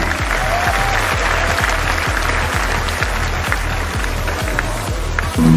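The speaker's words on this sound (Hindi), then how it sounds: "एक बार जोरदार तालियां हो गए।" An audience applauds at a large champion celebration event, sustained loud clapping from a crowd with a steady rhythmic beat of music thumping underneath.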